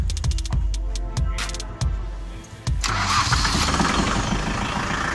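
A new Kubota tractor engine cranks with repeated starter turns, then catches and settles into a steady, loud idle nearby.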